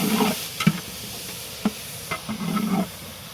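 A spoon stirs tomato into sambar in a pot, giving a few short scraping clinks and a soft sizzle over about three seconds, close and fairly quiet.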